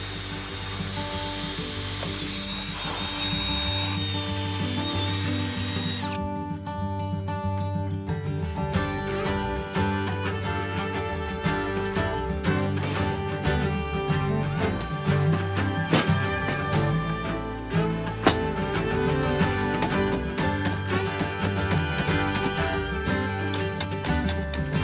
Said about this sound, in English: So now we're going to go around and drill out these holes